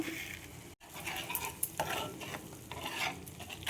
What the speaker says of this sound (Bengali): এবার মশলাটা কষিয়ে নেব ভালো করে।